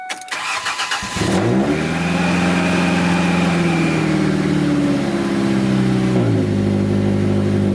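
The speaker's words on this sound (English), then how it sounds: "First start in the truck with the new muffler." A pickup truck engine with a new muffler cranks and starts, then settles into a loud, deep rumbling idle with a brief rev near the end.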